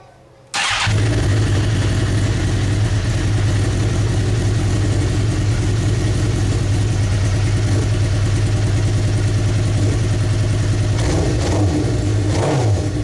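A 2007 Suzuki Gixxer 1000 motorcycle engine fires up after a brief pause and keeps running loud and steady with an uneven, rough idle, a couple of throttle blips near the end, no talk.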